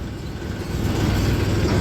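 A tractor engine runs steadily nearby, a low chugging drone that grows slightly louder over a brief moment, with no talk.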